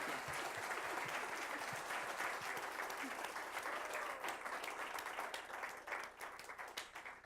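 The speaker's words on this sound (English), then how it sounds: "Can we give a round of applause here for Evan and Yona?" A lecture audience at a talk on the Black Panther in comics and culture applauds the speakers, a dense, sustained wash of many hands clapping that stays loud for several seconds, then thins and tapers toward the end.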